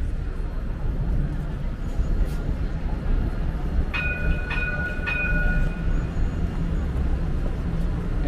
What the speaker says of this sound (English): They must wait for a train to pass